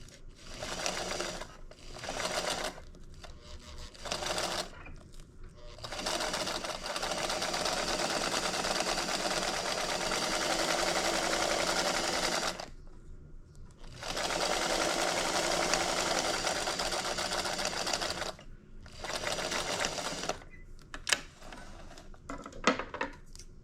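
Domestic sewing machine stitching fabric for a small wristlet with card pockets, steady whirring runs of several seconds broken by short pauses and a final burst of quick bursts, fairly quiet with no talk.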